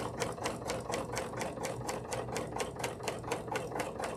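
A sewing machine stitches slowly over a zipper, its needle hammering in a steady, even rhythm of close, quiet clicks with no talk.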